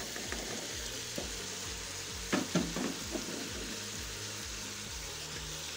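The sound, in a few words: potatoes frying in a pan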